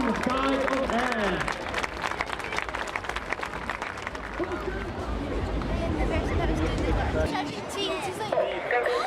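Crowd applause and cheering at an outdoor air show for the RAF Red Arrows synchro pair flying Hawk T Mark 2 jets, a steady broad wash of clapping mixed with crowd noise and talk throughout.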